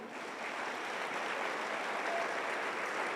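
A church congregation applauding together, a dense, steady wash of clapping that fills the room at even loudness for a few seconds with no one speaking over it.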